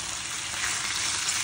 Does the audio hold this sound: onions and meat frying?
yes